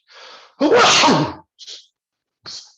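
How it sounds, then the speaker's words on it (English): A person sneezes loudly and close by, with a quick inhale before the burst and a few soft breathy sounds afterward. "Oh, excuse me, I'm about to sneeze."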